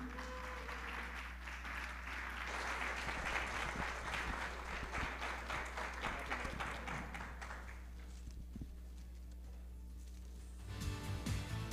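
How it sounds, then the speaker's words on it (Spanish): A crowd at a corporate sales awards event in Colombia applauds with dense, steady clapping that fades out toward the end, with a low background hum throughout. "Démosles un fuerte aplauso."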